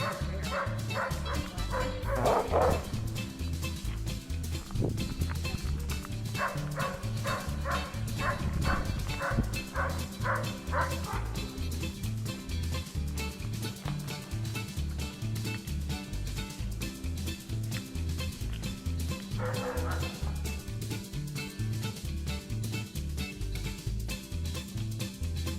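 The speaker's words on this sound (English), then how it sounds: "cute doggies." Several dogs bark and yip continuously at Denali National Park, a dense overlapping chorus of close, loud barks with occasional whimpers, sustained throughout.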